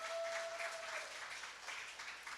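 An audience applauding at a public talk on women and the city in Hamilton, a soft, steady patter of clapping that stays distant and even.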